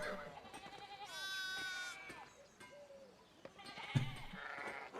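Several sheep bleat in a game's town center, drawn-out wavering cries overlapping one another at close range, with some spoken dialogue and light background sounds between calls.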